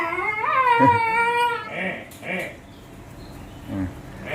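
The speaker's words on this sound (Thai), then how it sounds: "ลูกหมาหกเดือน" A six-month-old bully-breed puppy lets out a long, rising whine or whimper at close range, followed by a few short, softer yelps in a quiet room, with no talking.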